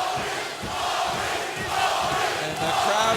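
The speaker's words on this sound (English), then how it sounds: "the crowd getting behind Smith right now. And they're chanting Maurice" Dense arena crowd at a 1997 UFC 14 fight roaring and chanting in unison for fighter Maurice Smith, a sustained rolling wall of voices filling the hall with rhythmic surges.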